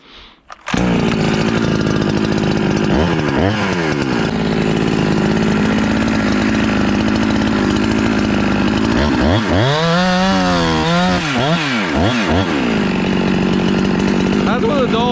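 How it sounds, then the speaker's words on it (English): A Husqvarna 372XP big bore chainsaw with an epoxied exhaust roof and a dull chain, fired up and running loud and close, holding a steady high whine and revving sharply in several rising-and-falling bursts. "That's with a dull blade. It is ripping."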